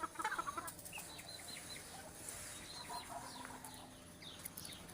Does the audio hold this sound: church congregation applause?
no